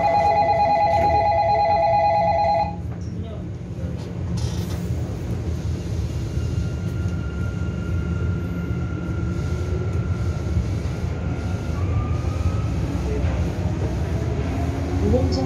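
A Sillim Line light rail train departs from Saetgang station. Door chime tones sound first, then a low rolling rumble builds with faint whines as the train moves off.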